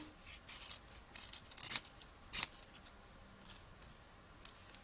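Scissors snip ribbon into petals for a school bow, giving a few sharp, close cuts spaced out over a quiet background, with two louder snips in the middle.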